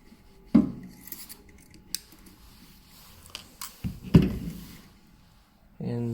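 Optical fiber is cut for a fiber fusion welder, two sharp close snips or clicks a few seconds apart among small handling sounds, with a voice starting at the end.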